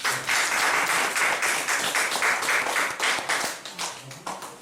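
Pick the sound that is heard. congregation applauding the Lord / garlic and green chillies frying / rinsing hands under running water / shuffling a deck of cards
congregation applauding the Lord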